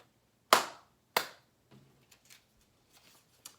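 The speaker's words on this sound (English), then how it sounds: "Clap twice." Two crisp hand claps, close and loud, spaced a little over half a second apart, each with a short decay, then faint scattered rustles.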